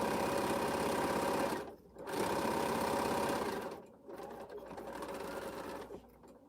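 A sewing machine stitches quilt pieces together in fast, steady bursts of close mechanical whirring, stopping briefly between runs.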